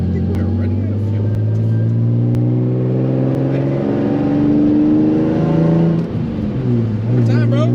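A single-turbo Nissan 350Z tuned past 800 wheel horsepower pulls hard on the street, its engine droning and rising in pitch as boost builds, loud and close inside the car with a brief shift dip near the end.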